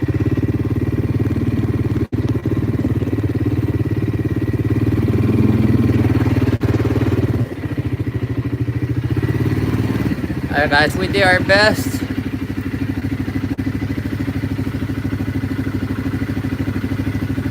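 A kid's motorcycle engine runs steadily nearby, a continuous low throbbing drone lasting throughout, while a person speaks briefly over it partway through.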